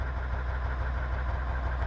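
A Ural truck in Farming Simulator 15 idles with a steady, low, rumbling engine drone. The pulsing is even and continuous, close and unbroken, with no talking over it.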